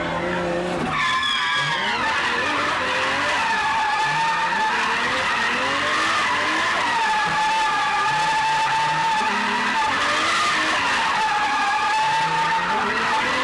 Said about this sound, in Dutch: De geur van rubber en piepende banden.